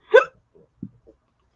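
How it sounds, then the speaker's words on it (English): A single sharp, loud hiccup from a nearby person right at the start, followed by a few faint soft bumps and breaths in an otherwise quiet moment, with no talking. "Pardon me for the hiccup."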